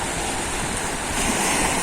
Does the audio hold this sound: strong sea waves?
yes